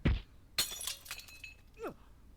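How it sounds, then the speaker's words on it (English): Glass shatters in the game Chaos;Child: a sharp impact, then a bright crash of breaking glass with scattered tinkling shards, close and loud. "I heard the sound of shattering glass,"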